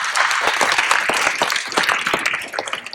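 A lecture audience breaks into loud, dense applause welcoming a speaker onstage, with many hands clapping continuously before the sound thins out toward the end.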